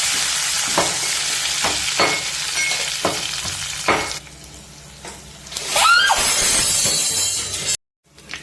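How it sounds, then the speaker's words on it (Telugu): A tempering of mustard seeds, cumin and fenugreek fries in hot oil, a close hissing sizzle punctuated by regular sharp clinks of a spoon on the pan, swelling into a louder burst before cutting off abruptly. "చూసారు కదా అని తాలింపు వేగిపోయింది"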